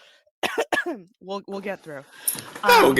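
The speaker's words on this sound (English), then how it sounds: "I'll try to mute myself in between coughing." A podcast guest with a hoarse, strained voice speaks a few halting words, then breaks into a loud, harsh cough close to the microphone at the end.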